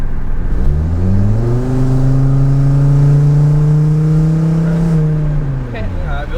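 A Volvo 850R engine pulls hard on a test drive, its note rising steadily, holding a loud, smooth drone, then easing off near the end, close and dominant with a voice faintly underneath.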